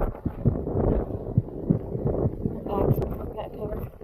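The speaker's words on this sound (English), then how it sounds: "It's super windy." Wind buffets a microphone in steady rumbling gusts on the summit of Hump Mountain while a person talks throughout, the roar close and continuous.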